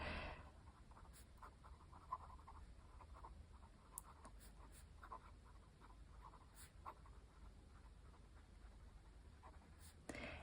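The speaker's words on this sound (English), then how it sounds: "this pen, or this nib in particular, definitely sings a bit, so it makes some noise on the paper" Fountain pen nib scratching across paper as it writes, a faint, quiet scratchy sound in short strokes and bursts with brief pauses, heard up close and alone in a still room.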